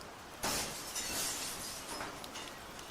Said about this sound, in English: Then the mirror shattered.